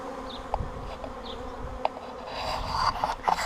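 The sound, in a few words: drone honeybees flying around hive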